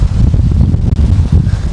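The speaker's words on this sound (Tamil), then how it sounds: "செம்ம காற்று அடிக்குது," Strong wind blowing on Al Hudayriyat Island in Abu Dhabi, a loud steady low roar buffeting the microphone throughout with brief dips.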